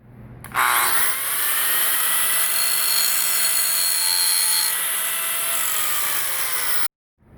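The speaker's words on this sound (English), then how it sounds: "we're going to turn the grinder on and do one slow stroke back towards us and see where the material is coming off" An angle grinder taking the high spots off a weld in one slow stroke: a loud, steady high-pitched whine with a gritty grinding edge that spins up quickly, holds for about six seconds, then cuts off abruptly.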